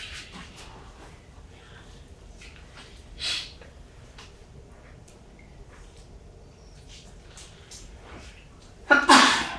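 A single sharp sneeze bursts out near the end of a school board meeting, following quiet room noise with a few faint rustles and one soft earlier breath.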